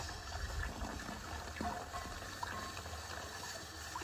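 Water flushes out of the boiler of an Alfred Dodman 4-inch scale model steam traction engine during a washout and descale, a steady, fairly quiet gushing trickle with no break.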